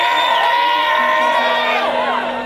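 A concert crowd at the Barkley Ballroom in Frisco, Colorado, cheering for a band from Chicago, loud sustained whoops, yells and screams from many voices, fading slightly at the end.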